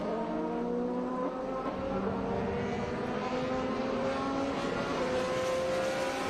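Prototype race cars in a PSSA battle at Portland International Raceway, engines droning steadily at high pitch with rising and falling tones as the cars circle, a continuous loud roar without pause.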